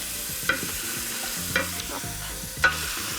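Broccoli and other vegetables, kohlrabi among them, are stirred in fat in a pot for a soup, with a soft steady sizzle and three distinct scraping clinks of the utensil against the pot.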